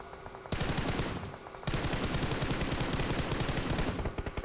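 Rapid automatic gunfire from a battle royale shooter, loud sustained bursts aimed at a buggy, with a short pause before another long volley.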